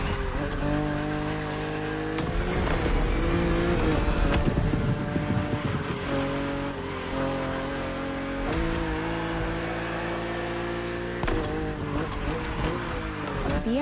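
A BMW Z roadster driving in The Crew Motorfest racing game, its engine drone steady with pitch rising and falling through gear changes, a sustained loud whine lasting the whole stretch.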